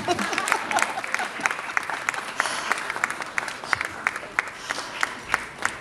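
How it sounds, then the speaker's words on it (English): An audience at a trade week event in Nairobi claps in a moderate, steady round of applause, individual claps distinct and fairly close, with faint voices beneath. "You have to clap until I sit."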